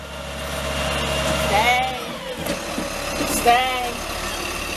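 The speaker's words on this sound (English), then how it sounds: "there's a garbage truck right back there. Coming through." Garbage truck rumbling past a garden strip, its engine and air brakes audible at moderate distance while a person speaks briefly over it.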